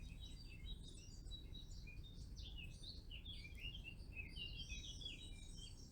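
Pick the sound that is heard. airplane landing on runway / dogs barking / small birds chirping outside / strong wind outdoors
small birds chirping outside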